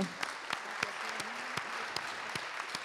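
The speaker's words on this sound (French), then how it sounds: "Merci Almir, je pense qu'on peut euh, applaudir euh, tout" Audience applause after a call at a solidarity event for the Amazon, steady dense clapping running through the whole stretch with no talk over it.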